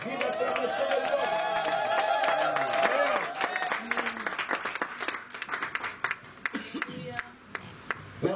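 Church congregation applauding loudly in praise, the clapping thick at first and then thinning to scattered claps, with a preacher's voice carrying over the crowd.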